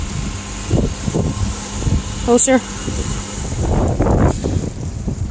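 Low rumbling wind of about 37 mph with gusts up to 45 buffets the microphone in uneven gusts, with a short spoken word and a brief squeak partway through.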